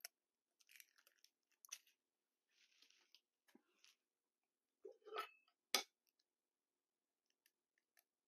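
An egg is cracked into a mixing bowl of mashed banana batter for chocolate peanut butter muffins, with a few soft taps and clicks before one sharp, close crack, all in a quiet kitchen.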